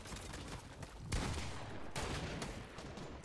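Fortnite gunfire in a competitive FNCS match, with sharp sniper cracks and bursts of shots over constant battle noise, distant and faint.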